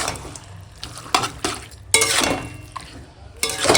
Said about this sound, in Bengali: একটু চিনি দিয়ে ভালো করে এবার মিশিয়ে নেবো